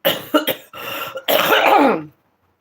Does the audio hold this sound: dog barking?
no